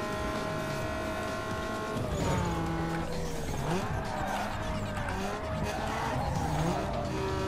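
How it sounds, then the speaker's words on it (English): A car in Need for Speed Underground 2 skids with loud tire squeal over a constant engine roar. The skid sweeps up and down in pitch as the car slides. "but then I started sliding unintentionally, which cost me a lot of time"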